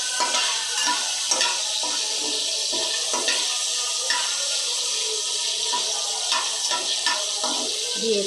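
Bay leaves, cardamom, cloves and cinnamon stir-fried in hot oil for chicken pulao, a steady broadband sizzle with repeated scraping strokes of the spoon throughout.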